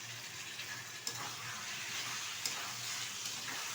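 Barisal-style chicken curry with tomato paste and chopped coriander cooking in a pan, a faint steady sizzle with two brief clacks of a spoon stirring.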